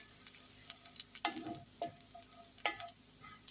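Spices with coriander-cumin powder stirred in a frying pan for a Gujarati vaghārelo rotlo, a spoon scraping in short strokes over a soft steady sizzle, close and fairly quiet, no voices.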